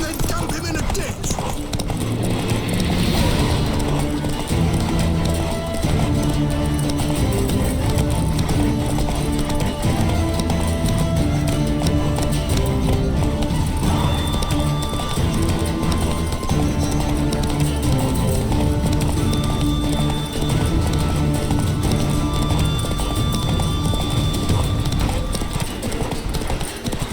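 The horse Roach galloping in The Witcher 3 video game, with rhythmic hoofbeats running steadily under game music and spoken dialogue.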